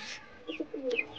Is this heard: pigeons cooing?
yes